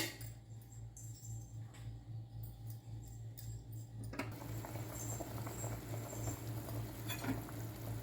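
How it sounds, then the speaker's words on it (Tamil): A pot of country chicken curry (nattukozhi thanni kulambu) bubbles and sizzles on the stove, with a low constant hum beneath and a denser bubbling patter starting partway through. "இப்போ அடுப்பு பற்ற வச்சு சும்மா ஒரு 2 நிமிஷம் கொதிக்க வைக்கலாம் போதும்"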